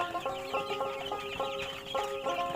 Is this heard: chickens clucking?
yes